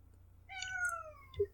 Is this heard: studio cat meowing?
yes